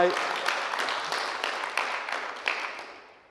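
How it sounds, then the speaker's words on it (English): Audience applause at a televised conversation event at a convention, a dense broadband clatter of many hands that starts at full strength and slowly thins and fades over a few seconds, with no voices over it. "I'm going to pretend that applause was for me."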